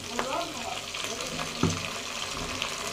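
Chicken with tomato sauce stirred in a frying pan, a soft continuous sizzle with scraping spoon strokes and one sharper clink midway, faint and steady throughout.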